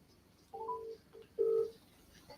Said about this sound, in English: Let me just phone her.